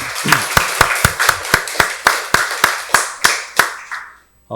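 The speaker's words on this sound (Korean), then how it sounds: "박수로 하나님께 영광 돌리겠습니다" A church congregation claps in unison during a Korean Sunday worship service, with about a dozen crisp, evenly spaced claps at a brisk steady rhythm that stop abruptly into quiet.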